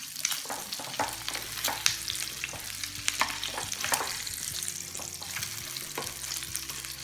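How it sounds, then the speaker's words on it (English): Crab cakes sizzle and fry in a pan, a constant crackling hiss with scattered sharper pops, moderately quiet and close, with no one speaking. "We're gonna let them cook about 3 minutes aside"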